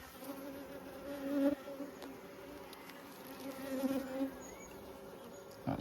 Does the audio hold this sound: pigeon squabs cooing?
no